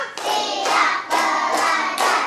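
Children in a classroom clap a counted rhythm together, in four or five loud, closely spaced bursts of group clapping with short breaks between them and no talk.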